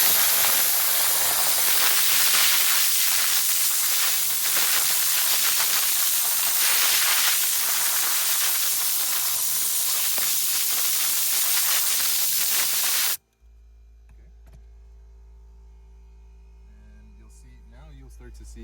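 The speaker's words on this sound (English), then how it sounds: "it's going to spray into your towel." Cleaner sprayed into a towel while detailing a car's centre console, a loud steady hiss that runs unbroken for about thirteen seconds, then cuts off abruptly to near silence.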